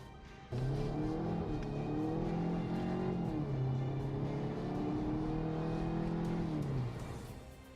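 A Volkswagen GTI hatchback with 228 horsepower kicks in sharply and revs hard, its engine tone rising through gear after gear and dropping at each shift in a repeating climb, loud and close, then fading slightly at the end.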